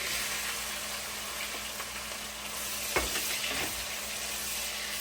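Onions frying in oil after garlic paste for a goat trotters (paye) dish, a soft steady sizzle with occasional stirring scrapes, close and faint, no talking.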